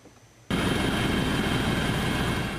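A rescue helicopter flies over flooded ground near Solok in Indonesia's North Sumatra, its dense, steady engine and rotor drone starting abruptly and holding loud and close.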